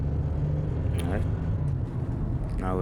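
Mercedes ML with a freshly rebuilt engine driving on a road, a steady low road and engine rumble with brief brighter whooshes, close, under people talking.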